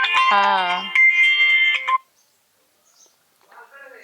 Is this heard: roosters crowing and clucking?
no